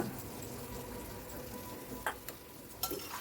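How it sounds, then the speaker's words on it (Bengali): Thinly sliced potatoes and chopped onion fry in a pan with a low, steady sizzle, broken by a few sharp clicks of a utensil against the pan near the end. "আলুগুলো খুব পাতলা পাতলা করে কাটা হয়েছে তাই ফ্রাই হতে বেশি টাইম লাগবে না"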